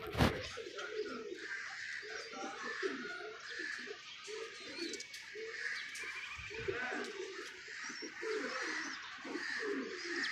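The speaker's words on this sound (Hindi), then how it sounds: "कबूतर भी लैस हो चुके हैं" Rooftop pigeons coo softly in repeated throaty phrases with scattered chirps, fairly quiet, while someone talks at times.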